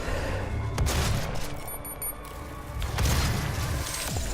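Shotgun blasts in the video game Doom, heavy booming shots fired a few at a time over a dense, continuous roar of combat noise, loud and close with no talk.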